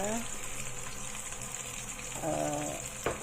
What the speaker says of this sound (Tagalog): So, ngayon maglalagay na ako ng garlic. Ginger. Scallion.